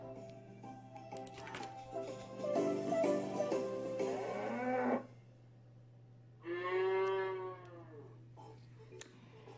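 A cow moos twice, loud and close: one long drawn-out low moo, then after a pause a second shorter moo, with a steady low hum underneath.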